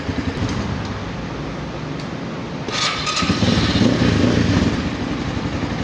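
A Microbike MX250 enduro motorcycle engine idles steadily up close with a low, even rumble, rising slightly louder partway through, with no voices.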